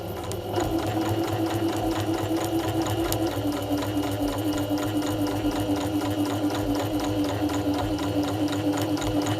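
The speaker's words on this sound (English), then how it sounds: "So I'm just going to sew it for now" A sewing machine runs steadily through scrap fabric for a Christmas project, its needle clattering in a fast, even rhythm with a constant motor hum. The sound is close and continuous for the whole stretch, with no talking.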